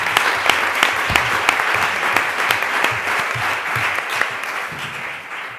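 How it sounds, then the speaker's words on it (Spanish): Full audience applause at a panel event on women creators, dense and continuous clapping held at an even level throughout, with no talking over it. "Otro aplauso."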